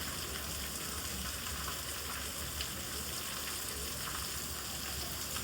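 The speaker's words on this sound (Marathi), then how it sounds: "हा पाऊस एवढा पडते काय समजा नाही." Steady heavy rain pours down during a wet day at the seashore creek, a dense, even hiss filling the whole stretch at low volume with no breaks or voices.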